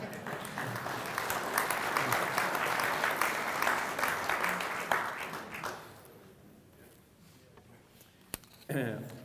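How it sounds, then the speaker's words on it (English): An audience at the RimFire Natural Resource Summit gives a sustained round of applause for about six seconds. The clapping then fades into quieter room sound with a few stray claps. "Give them all a round of applause."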